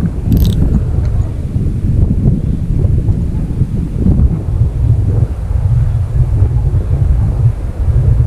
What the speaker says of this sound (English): I'm gonna tighten that drag.